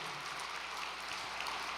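A gathered audience at a special all-night devotional session gives dense, continuous applause of encouragement, steady and even throughout with no voices standing out.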